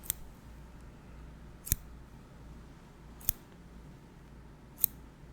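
Scissors snip during an ASMR haircut, four crisp close metallic clicks spaced about a second and a half apart over faint background hiss.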